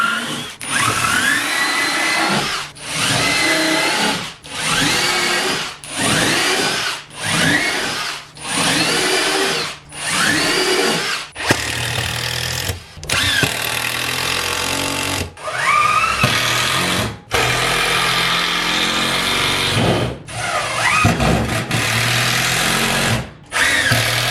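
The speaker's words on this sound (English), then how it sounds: "I gotta get a drill bit and drill them suckers out" A power drill drills out screws on a garden shed in repeated loud whining bursts, each a few seconds long with short pauses between, then longer runs with the motor pitch rising and falling under load.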